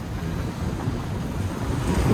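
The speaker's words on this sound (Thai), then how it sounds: "เสียงลมมากกว่าเสียงคนพูด" Strong wind buffets a microphone outdoors on a road near a large overpass, a loud, continuous low roar that swells slightly toward the end, with no talking.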